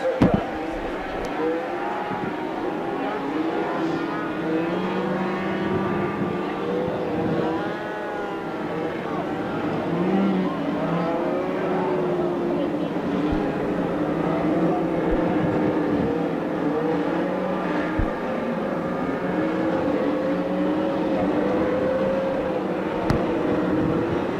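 Wisconsin Sport Trucks race engines drone and rev at the WIR short track, a steady mid-distance roar of several trucks running together under a commentator's talk throughout.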